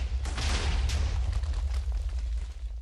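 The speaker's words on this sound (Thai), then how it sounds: "ผมเดินเข้าไปใกล้มันจะระเบิด" A Minecraft explosion, part of a huge chain of detonating TNT, rumbles as a continuous deep roar with crackling bursts layered on top, loud and sustained throughout.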